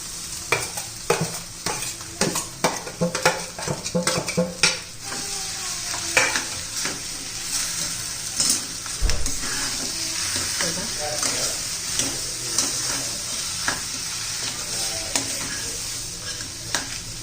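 Boiled potato is added to a hot pan, fried and stirred, giving a steady sizzle with repeated scraping and clacking of a spatula. The stirring is brisk at first, then settles into continuous frying.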